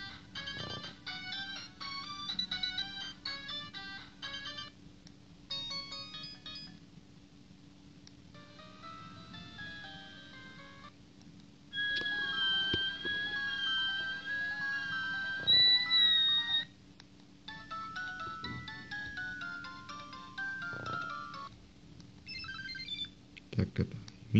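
A Sony Ericsson mobile phone plays a polyphonic ringtone melody: bright, synthetic, multi-voiced notes running in quick patterns, fairly quiet and clear, with short pauses between phrases and no talk over it.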